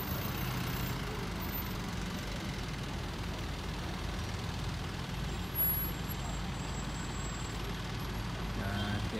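Police trucks rumble along a street during a clean-up operation against illegal vendors and pirate taxis in Zimbabwe, a low steady engine drone with a faint hiss partway through, heard from a moderate distance.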